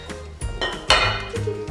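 Utensil clinks and scrapes against a bowl as ingredients are mixed with a large amount of sugar, several irregular knocks and rattles up close, no talking.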